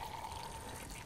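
Distilled water poured from a container into a soil sample for a pH test, a steady, faint trickle lasting about a second with no voices.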